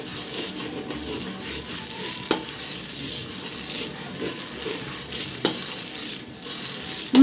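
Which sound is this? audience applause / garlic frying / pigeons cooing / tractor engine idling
garlic frying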